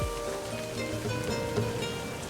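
Steady rain falling in the LIVBER video game, a continuous soft patter and hiss layered over low sustained ambient tones, with no speech.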